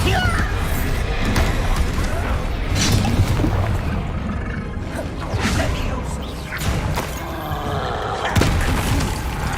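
Bombarda spell explosions in Hogwarts Legacy come as repeated booming blasts and whooshes inside dense, continuous combat noise, with a voice speaking over them.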